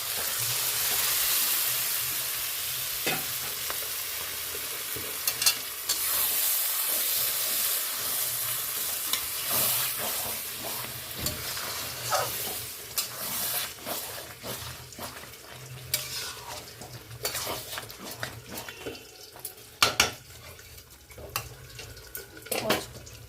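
Boiled mung dal goes into a hot cooking pan and is stirred, making a steady sizzle with scattered scraping and clinking of the spoon against the pan, close and continuous.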